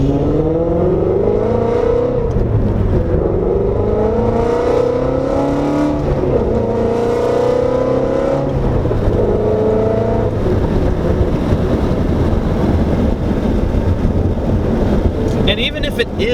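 A modified Ford Mustang GT350 with full bolt-ons, about 510 wheel horsepower, revs hard while driving, its engine note climbing in repeated pulls with wind noise and someone talking over it.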